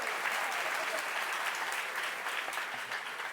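Livestream audience cheering and applauding during a Dead by Daylight anniversary broadcast, a steady dense wash of clapping and crowd noise sustained for several seconds.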